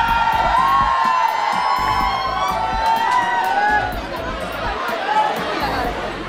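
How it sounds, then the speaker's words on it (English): Fans gather on a Delhi film set where Shahrukh Khan is shooting the film Fan, a loud, steady crowd of shouting and cheering voices with whoops rising over the dense babble throughout. "several fans can be heard cheering for their favorite superstar"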